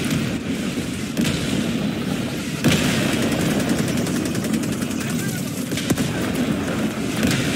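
A bombardment in a multiplayer shooter game: a dense, continuous roar of booming explosions and gunfire, loud and sustained for several seconds, with sharper blasts standing out and voices mixed in.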